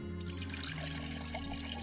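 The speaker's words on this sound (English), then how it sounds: "put more clean water in here" Clean water poured into a snow globe during a repair, a steady low splashing, gurgling flow heard up close for the whole stretch with no talking.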